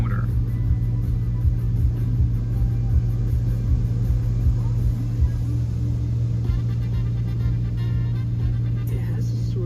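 Touch-free automatic car wash at a Kwik Trip in Weston, Wisconsin, running with a steady loud mechanical rumble and low motor drone throughout, spray hiss on top and occasional clanks, with talk under it.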